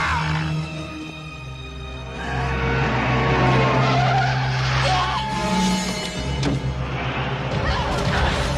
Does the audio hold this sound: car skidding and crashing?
yes